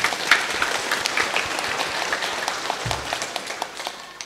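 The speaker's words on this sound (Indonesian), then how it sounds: "Tepuk tangan untuk mereka semua." Applause from a church congregation at the blessing of a Catholic church, steady scattered clapping at moderate distance, fairly soft and continuous for a few seconds.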